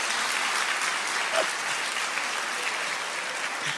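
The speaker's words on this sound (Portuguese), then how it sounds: "uma salva de palmas para vocês" A congregation at a church sermon applauds steadily, a dense, sustained wash of clapping that holds at an even level throughout.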